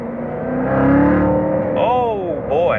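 A 2017 Chevrolet Corvette Z06 in manual mode accelerates hard, its engine note climbing and dropping in pitch with gear changes, loud and close, while someone talks over it.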